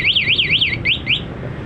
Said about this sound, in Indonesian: untuk tombol lonceng ini ketika dipencet satu kali dia fungsinya untuk mode pencarian atau answer back ya, seperti ini di parkiran